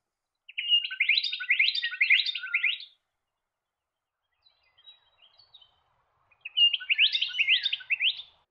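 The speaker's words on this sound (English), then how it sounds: "In the Stirling Ranges, you are most likely to see the yellow-plumed honeyeater." A yellow-plumed honeyeater in the Stirling Ranges of southwest Western Australia gives two bursts of rapid, bright chirping notes separated by a few faint calls, clear against a silent background.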